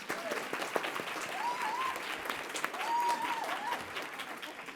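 An audience at a workforce report forum applauds host Colleen Marshall, a steady wash of clapping with faint whistle-like tones rising over it.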